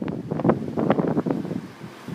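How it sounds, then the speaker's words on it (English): Wind buffeting an outdoor microphone beside the Brayford railway level crossing in Lincoln, gusty rumbling bursts that rise and fall over about two seconds, loud and close, then easing toward the end. "It's a bit windy."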